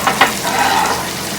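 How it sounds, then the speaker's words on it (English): Black cod and garlic frying in a pan of hot oil give a steady close-up sizzle, with two brief louder crackles near the start before the hiss settles into a continuous even fry. "I'm going to turn up the heat a little bit, and I hope you can hear the sizzle"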